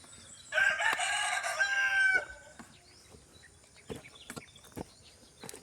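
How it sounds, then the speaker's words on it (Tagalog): Pet chickens on a small farm at feeding time: one loud, close rooster crow lasting about a second and a half, then scattered soft clucks and scratching. "So pakainin muna natin yung alaga nating manok."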